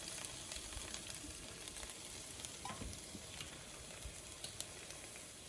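Onions sauté in a tablespoon of avocado oil, giving off a soft, steady sizzle with small crackles and occasional faint stirring clicks. The sound is quiet and even, with no voices.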